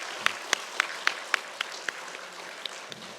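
Scattered, sparse claps from a small group honouring children and teachers during a dawn prayer service at a church summer camp, about nine distinct claps fading out over a few seconds.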